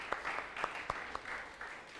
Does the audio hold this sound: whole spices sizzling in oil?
no